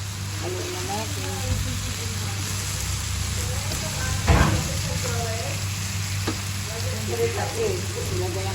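Bottle gourd and sardines stirred in a pan, a steady sizzle with scraping utensil strokes, a louder clatter near the middle, and a voice talking over it throughout.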